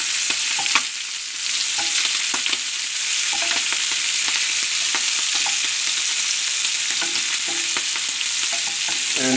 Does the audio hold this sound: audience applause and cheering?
no